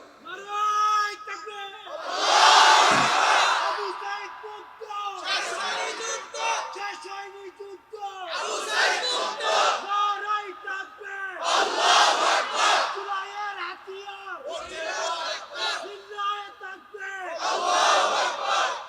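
A large crowd at an open-air Bangla Islamic sermon (waz) roars a slogan in unison, a series of loud, rhythmic chanted bursts repeating every couple of seconds with brief pauses between them.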